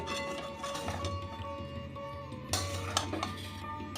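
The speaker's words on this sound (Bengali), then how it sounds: "চিকেনটা দিয়েও আর মিনিট দুয়েক আমি নেড়ে নেব" Chicken being stirred in a pan on a stove over a low, simmering gas flame, with steady scraping and clinking of utensil against pan, a few sharper clanks near the end, no talk.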